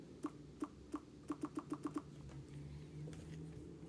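Keys clicking on a Lenovo ThinkPad X1 Nano laptop keyboard: about nine crisp, close presses, a few spaced taps and then a quicker run, fading into faint room hiss.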